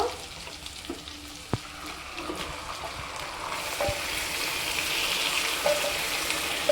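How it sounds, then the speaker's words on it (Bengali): Chicken pieces go into onions already fried light brown in a pan for Kolkata chicken biryani, setting off a steady sizzle that grows fuller and louder, with faint scraping and stirring clicks. "পেঁয়াজটা হালকা বাদামি বাদামি ভাজা হয়ে গেছে এবার আমি এখানে চিকেনটা দিয়ে দেব"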